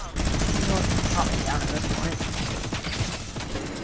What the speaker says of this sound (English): I'm getting minigunned in the face.